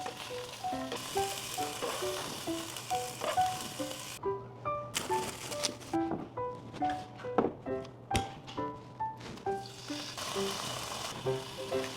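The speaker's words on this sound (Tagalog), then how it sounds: "naghiwa na nga rin ako ng isang buong sibuyas at una ko na nga din munang iprinito" A whole sliced onion sizzles steadily in a hot pan for pork steak, with occasional stirring taps and clinks of a utensil against the pan over a continuous frying hiss.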